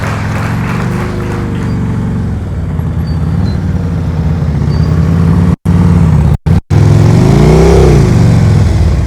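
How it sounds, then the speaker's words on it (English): A motorcycle rides at slow speed during practice, its engine holding a steady, even throttle with a loud continuous drone, briefly cut by a few gaps before a slight rise and fall in pitch near the end. "I want you to hear his throttle is steady."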